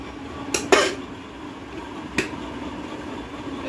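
Rice is served onto plates in a home kitchen with a couple of sharp metallic clinks close together and then one more a moment later, over a low steady background hum.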